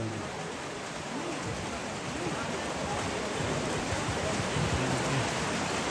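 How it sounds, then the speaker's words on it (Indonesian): Steady rain hisses outdoors as a constant broadband wash, with faint voices murmuring underneath. "Sayang hujan ini lah"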